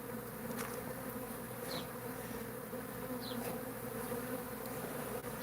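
Bees buzzing in a room of a house where a colony was bricked up inside a wall, a steady droning hum with a few individual insects whizzing past close by, with no voices.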